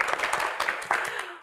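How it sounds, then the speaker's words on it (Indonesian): A crowd applauds students at a televised Indonesian talk-show event, a dense, steady wash of clapping that swells in waves across the short stretch and tapers off at the end. "Dan kita berikan tepuk tangan yang paling meriah juga untuk rekan-rekan mahasiswa dari ADVI."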